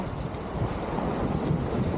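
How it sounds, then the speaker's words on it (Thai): Strong sea waves wash onto a beach at Ban Koh Tiab in Chumphon, Thailand, with gusty wind buffeting the microphone. A continuous rumbling roar of surf and wind swells slightly toward the end, with no voices. "คลื่นคือแบบวันนี้คลื่นค่อนข้างจะแรง"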